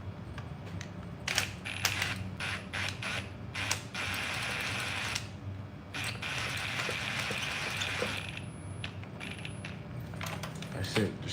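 A power tool's trigger is lightly pressed while tightening a spark plug on a BMW 750Li engine, giving short close mechanical clicks and whirring ratchet-like bursts in quick succession, with no one talking.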